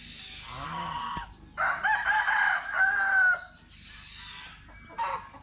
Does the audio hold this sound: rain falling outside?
no